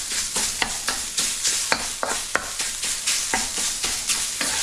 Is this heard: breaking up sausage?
yes